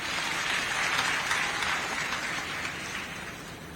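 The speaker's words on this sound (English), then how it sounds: "Let's clap for them." A crowd at a silver jubilee ceremony applauds award recipients, dense clapping that swells early and then slowly tapers while staying continuous.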